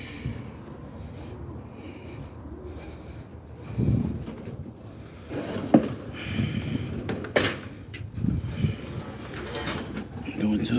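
Young pigeons, four or five months old and still in heavy molt, coo softly inside a large loft, their low murmuring steady throughout with a few louder bursts and some handling noise nearby.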